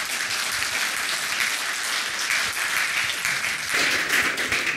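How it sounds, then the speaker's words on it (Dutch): A lecture hall audience applauds speaker Hans Bruinings at an academy lecture, an even, sustained patter of many hands clapping at moderate volume with no talking over it. "Graag een applaus voor Hans Bruinings."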